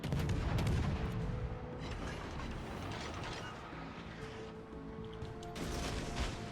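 Warship secondary guns fire in World of Warships Legends, a dense run of booming and crackling gunfire with mechanical clatter, loud and continuous throughout.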